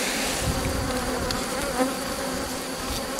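Honeybees from a populous hive buzz in a dense, steady drone as an opened hive's frames are inspected, the swarm close and loud with no pauses.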